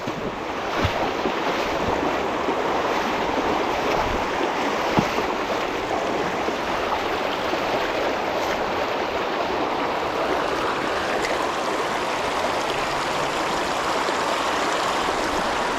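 River rapids on the Nepean River at Penrith rush steadily in a broad, continuous wash of churning water, close and unbroken throughout, with light wind buffeting the microphone.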